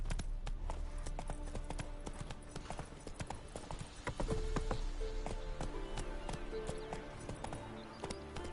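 Hooves of Roach, a horse in the video game Witcher 3, clip-clop in a fast, rhythmic gallop, with sharp, crisp hoof strikes repeating steadily throughout at moderate loudness.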